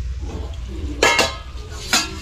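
A ladle stirs stuffed bitter gourd in a cooking pot, giving a few sharp metallic scrapes and knocks against a low kitchen background.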